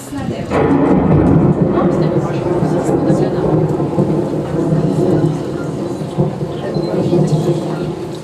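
Thunder rumbles and steady rain pour down together as a loud, continuous storm effect that builds quickly and holds for several seconds, played in a children's stage production of Beauty and the Beast.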